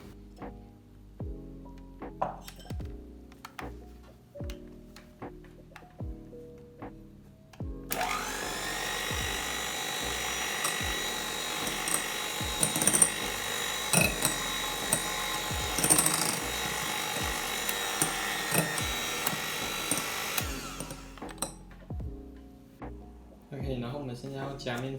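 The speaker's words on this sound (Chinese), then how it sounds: "蛋黄我们慢慢搅就可以了，不用太快，然后搅到它均匀就可以停了" Sponge cake batter is mixed with egg yolks by a motorized mixer. The steady machine whir runs loud and continuous through the middle of the clip, with knocks and clatter of kitchen handling before and after.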